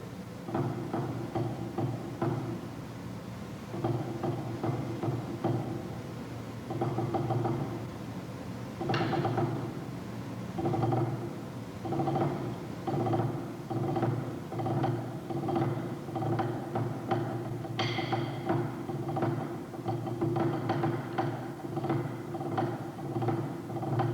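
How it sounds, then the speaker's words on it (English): Drummer demonstrating five-stroke rolls played with flams at a percussion workshop, a steady run of quick clustered snare strokes repeating in short bursts, fairly close and even in loudness, with no talking. "The ordinary 5-stroke rolls like this."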